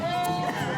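A single short bleat from a nearby goat at an agricultural show, tonal and wavering, with faint background noise.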